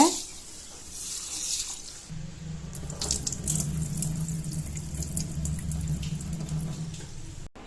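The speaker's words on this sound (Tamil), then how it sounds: "கேழ்வரகுல தூசி இருக்குங்க, அதனால நல்லா கையால் அழுத்தி பிசைஞ்சு கழுவி எடுத்துக்கோங்க" Finger millet being washed and squeezed by hand in water, with soft splashing at first, then a steady stream of running water that continues under the hand-scrubbing until it stops near the end.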